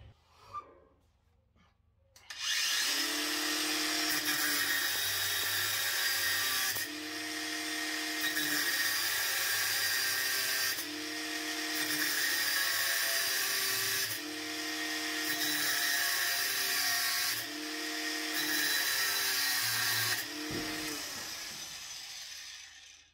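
A Parkside PWSA 20 Li-C3 cordless angle grinder spins up and cuts a steel profile, a loud high-pitched whine that dips in pitch rhythmically as the disc bites in repeated passes, close and continuous.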